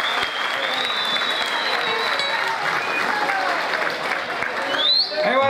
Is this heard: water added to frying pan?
no